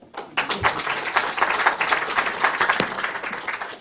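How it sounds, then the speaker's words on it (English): An audience applauds a panel at the close of a conference session, a dense, steady burst of clapping from many hands that carries on for several seconds with no speech over it. "Let's also give a big round of applause to the entire panel."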